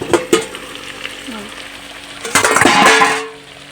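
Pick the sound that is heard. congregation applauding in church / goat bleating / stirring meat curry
stirring meat curry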